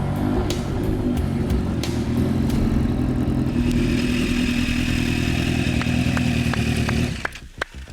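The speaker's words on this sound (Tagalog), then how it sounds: "it is such an intimidating motorcycle. Ang laki niya, ang ingay niya." A powerful superbike engine idles and revs loudly and close, a dense steady roar with a rising tone and mechanical clatter that cuts off sharply near the end.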